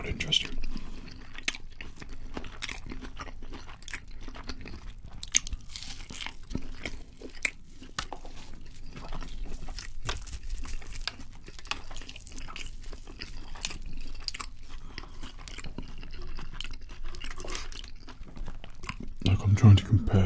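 Taco Bell food is chewed and crunched close to the mic in a quiet room, with soft wet bites and sharper crunches repeating irregularly throughout.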